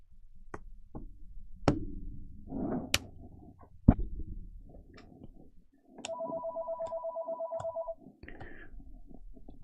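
Telephone ringing in a room during a card-breaking session, a rapid electronic ringtone pulsing for about two seconds amid scattered clicks, taps and knocks nearby.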